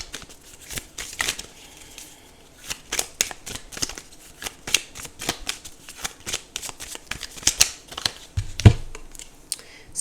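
Tarot cards being shuffled by hand, a run of quick papery riffles and snaps in irregular bursts, close and fairly soft, with one sharper knock near the end.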